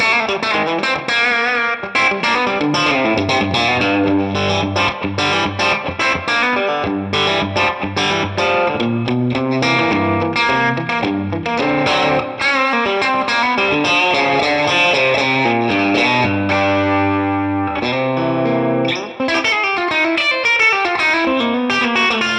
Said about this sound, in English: Wow, that's got a really cool overdrive tone.